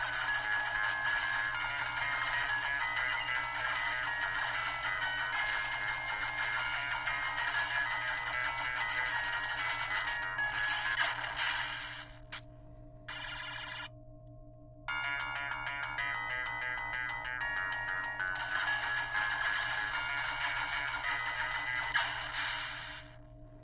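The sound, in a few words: video game sound played on Anbernic RG503 handheld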